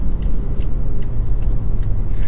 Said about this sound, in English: Feel that instant torque there from that electric motor.